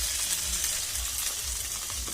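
Fried cauliflower and potato with turmeric sizzle loudly in a pan as they are stirred, a dense close frying hiss with faint rhythmic scraping underneath, and nobody speaking.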